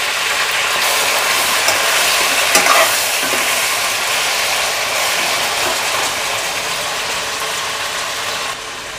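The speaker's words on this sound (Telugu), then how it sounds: "ఎండు మిర్చి, పచ్చి మిర్చి కొంచెం వేగిన తర్వాత కట్ చేసుకొని ఉంచుకున్న టొమాటో ముక్కలు వేసేసుకొని మగ్గనివ్వాలి" Dried and green chilies fry in hot oil, then tomato pieces go into the pan, giving a loud, steady sizzle with a brief stir around the middle that settles into a continuous hiss.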